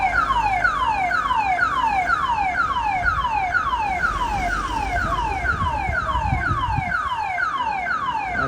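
A church alarm blares during a steelband street parade in Port of Spain, Trinidad, a loud, steady electronic whoop cycling rapidly in repeated descending sweeps over faint crowd noise.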